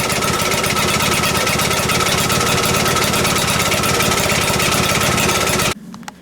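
A vintage Atco reel mower's small engine runs steadily and loudly up close, with the rough, popping chatter of an exhaust leak, then cuts off abruptly near the end, leaving a brief low hum.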